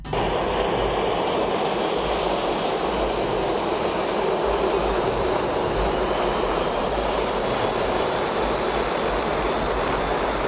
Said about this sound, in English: A small crowd gathers to watch a commercial airliner take off.